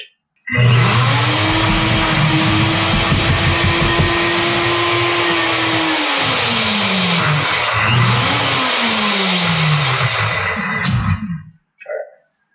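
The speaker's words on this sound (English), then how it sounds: "you're going to mix it up in the blender." A kitchen blender whirs loudly as it mixes cookie dough with butter, its motor pitch dipping and recovering as the load shifts, then cutting off near the end.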